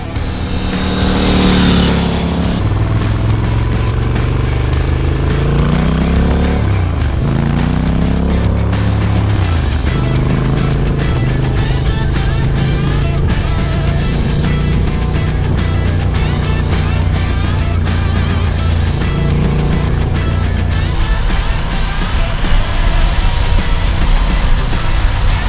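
A 2022 Triumph Scrambler 1200 XE motorcycle rides and accelerates, its engine loud and close throughout, with rising and falling revs through gear changes and a constant rumbling drone, no talking.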